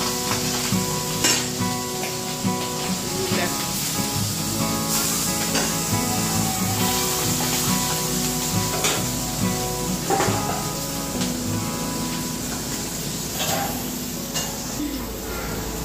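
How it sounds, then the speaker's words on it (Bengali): Pabda fish fries in hot oil with a steady, crackling sizzle and sharp splattering pops throughout, close and fairly loud, over a faint tonal hum in the background. "আমার এখনো ভয় লাগে যখন এই মাছের তেল ছেটে"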